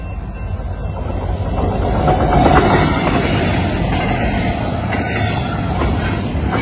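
A BNSF freight train rolls past close by, its heavy rumble and rattling wagons swelling to a peak midway and then holding a loud, steady roar with faint wheel squeal, with no talking.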